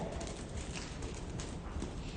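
Horse hooves beat in a riding arena during a jumping clinic, producing a steady, muffled clip-clop over continuous noisy background, with faint bird-like chirps mixed in.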